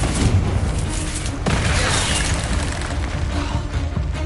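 Confringo fire spell blasts in the Hogwarts Legacy video game, a loud sustained roaring explosion with a fresh burst about halfway through, dense and continuous throughout.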